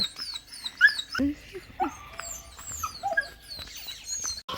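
A puppy whimpers and yelps in short, high-pitched cries, close by, while people talk softly around it.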